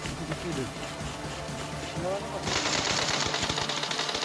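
AKM rifle fire in a video game, a few single tapped shots giving way to a sustained automatic burst, loud and close, with a voice talking over it throughout.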